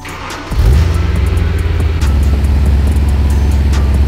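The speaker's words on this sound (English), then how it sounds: "We have a pretty fatty exhaust leak all of a sudden" A BMW M3 engine with an exhaust leak starts up and idles, a loud low rumbling drone with rhythmic pulsing that settles into a steady throb close by.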